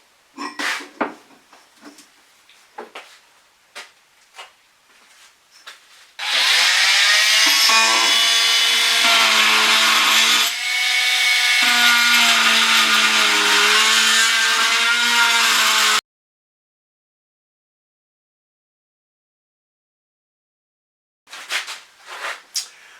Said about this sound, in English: I'm going to cut this with a multi-tool.